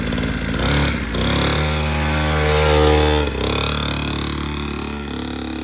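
A motorcycle engine fires up and idles with a loud, close, throbbing exhaust note that rises briefly as it is revved, with no talking.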